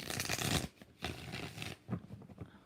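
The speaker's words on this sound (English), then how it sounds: "5 shuffles for KSR." Tarot cards are shuffled in three close, quiet bursts of riffling, each lasting under a second with brief pauses between.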